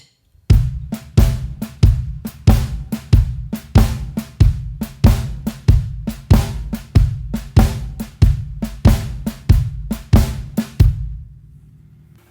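A blues shuffle drum groove with the bass drum on quarter notes: punchy low kicks under swung snare and cymbal strokes, steady and close, loud and continuous before ending abruptly with a fading ring.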